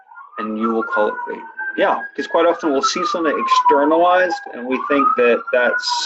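An emergency vehicle siren wails outside, its rising and falling tone sweeping continuously behind a person talking steadily close by.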